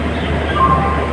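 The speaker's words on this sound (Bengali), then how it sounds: "এটা প্ল্যাটফর্ম নাম্বার 19 থেকে এই ট্রেনটি যাচ্ছে।" A train pulls out from platform 19 at Howrah railway station, giving a steady low rumble of wheels and carriages that holds evenly through the brief moment, with no voices over it.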